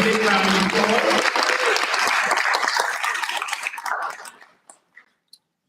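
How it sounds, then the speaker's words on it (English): Audience at a board of education meeting giving a round of applause, a full burst of clapping that thins out and fades to a few last scattered claps. "So we should give him a round of applause."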